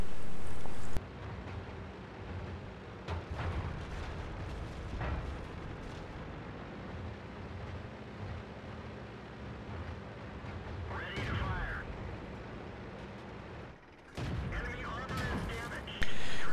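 Tank guns firing in a World of Tanks battle on the Swamp map, a T21 light tank among them: repeated sharp booms and blasts scattered across a dense, continuous game soundscape, with a voice speaking over the action.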